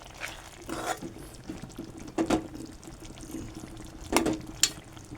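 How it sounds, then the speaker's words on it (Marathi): An onion and potato curry in a pot is stirred, giving a few soft, wet scraping and sloshing bursts against a quiet kitchen background, with no talking. "आपली भाजी तयार आहे मी आता ती ढवळतो"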